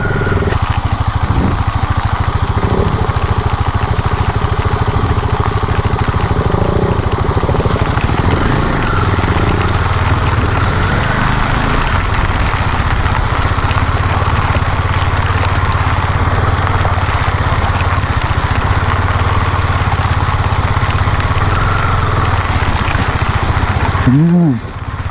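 A Husqvarna Svartpilen 250 motorcycle engine runs steadily with a low, rumbling drone that shifts pitch now and then, with a brief rev near the end; speech is faintly mixed in.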